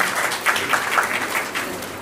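An audience applauds at a retirement felicitation gathering attended by minister Konda Surekha, with continuous crowd clapping for about two seconds and a few louder claps standing out.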